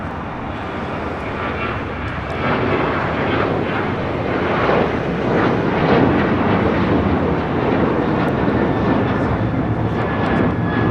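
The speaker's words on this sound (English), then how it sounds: "1398 taking off to Mazatlan on a 737-900ER in the One World livery" An Alaska Airlines Boeing 737-900ER in oneworld livery takes off from Los Angeles International Airport bound for Mazatlan, its engines a loud, sustained broadband roar that builds and holds without letup.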